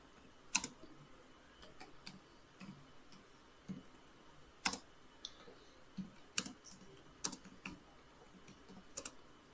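Someone types a journal note on a computer keyboard while entering an accounts receivable payment in SYSPRO software. The keystrokes come as sparse, irregular clicks, fairly faint and close, with quiet pauses between short bursts.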